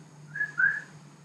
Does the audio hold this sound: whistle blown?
yes